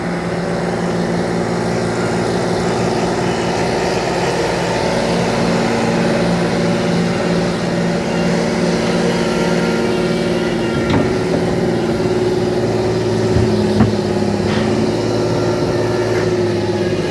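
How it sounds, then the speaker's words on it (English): A tractor pulling a dirt pan while clearing land on a ridge, its engine droning loud and steady with a constant mechanical hum throughout, tires straining and spinning; no talking. "He's spinning his tires, he's spinning his tires."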